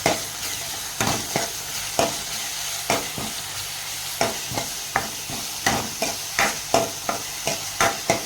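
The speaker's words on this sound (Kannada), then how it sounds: "ಗ್ರೇಟ್ ಮಾಡಿದ್ದನ್ನ ಈ ಆಯಿಲ್ಗೆ ಹಾಕಿ ಚೆನ್ನಾಗಿ ಇದನ್ನು ಫ್ರೈ ಮಾಡ್ತಾಯಿದ್ದೀನಿ." Grated garlic frying in hot oil for a chicken curry, a steady sizzle with regular spatula scrapes and taps against the pan roughly once a second, close and clear, without speech.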